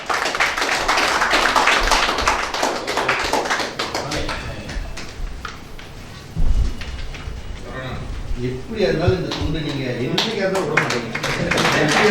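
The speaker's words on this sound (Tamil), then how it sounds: "உங்களுடைய கைகளையும் தட்டி அவருக்கு ஒரு ஆரவாரம் பண்ணுங்கள்" An audience at an event of the Saravana Bhava Jothiri Arivalayam claps for a guest speaker, scattered applause mixed with a voice speaking over the hall.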